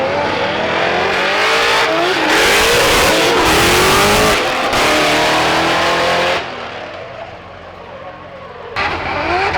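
A race car doing burnouts at a Formula Drift event in Atlanta, its engine loudly revving in rising and falling sweeps with tire roar, then easing to a lower drone before picking up again at the end.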